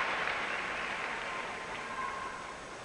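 Audience applause fills an arena at a 2002 Olympic figure skating ice dance free dance, a steady, distant wash of many hands with no talk over it.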